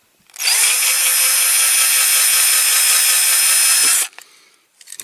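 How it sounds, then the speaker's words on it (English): A small power drill whines at high speed for about four seconds drilling out rivet heads on a Corgi Jaguar 2.4 die-cast model car, close and loud, then stops, followed by a few light clicks. "Start off with a smaller drill."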